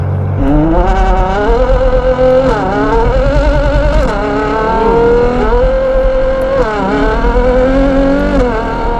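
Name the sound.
Ferrari Purosangue with NOVITEC exhaust system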